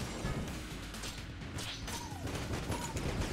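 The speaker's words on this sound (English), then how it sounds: "there's a lot of bigger, more continuous explosions" Explosions from the nitro cell weapon in the modded Enter the Gungeon video game, a dense, continuous crackling volley of blasts that carries on throughout.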